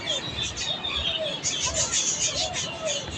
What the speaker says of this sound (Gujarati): તો સામે પેલા પોપટ બેઠા